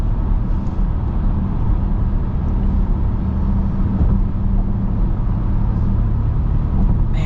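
A 2026 Dodge Durango GT V8 on the road, with a steady, loud engine and road drone from inside the cabin and no clear gear-change break.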